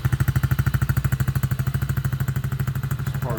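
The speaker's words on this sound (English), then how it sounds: "All right, we're giving it a start." A Chinese ATV engine runs in a fast, even chugging pulse, loud and close, steady throughout the short stretch.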